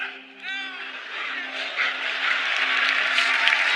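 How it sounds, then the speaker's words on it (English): A studio audience at a televised talent show breaks into applause after a magic trick, the clapping building from scattered claps into a sustained wash, with a voice briefly heard at the start. "everyone's smiling and clapping except for Mel B"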